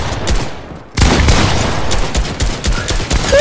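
Rapid SMG gunfire from the video game Fortnite, loud and dense, erupting after a brief lull into sustained bursts of overlapping shots with a few short gaps.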